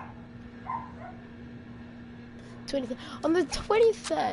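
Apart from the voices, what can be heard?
dog barking in the background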